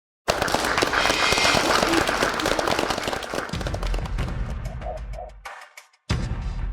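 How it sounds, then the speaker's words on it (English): A crowd at a wedding ceremony breaks into loud, dense applause that begins abruptly and carries on for several seconds. The clapping thins toward the end, drops out briefly, then returns. "Everyone applause."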